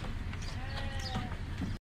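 Naimi sheep bleat at a large livestock market in Buraydah, with a couple of wavering calls rising over dense, steady crowd and animal noise.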